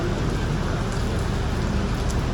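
Rain falling steadily and heavily, a dense continuous hiss of drops with no talk.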